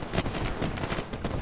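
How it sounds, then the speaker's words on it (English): Gunfire in the video game Unturned, a rapid burst of several loud shots packed tightly together over about a second and a half, with no talk. "Gunshot in the room."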